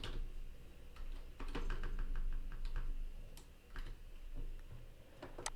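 Typing on a computer keyboard: quick, close, uneven clicks and taps in short bursts over a quiet room background, with no voices.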